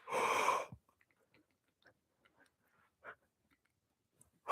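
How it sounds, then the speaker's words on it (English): A long, loud voiced yawn with the full body opens, followed by quiet breaths, small mouth sounds and faint rustles. "Then one more big yawn with the full body."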